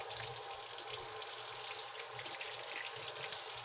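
Tap water runs steadily into a sink to wet a paper towel, a continuous close splashing hiss with no voices.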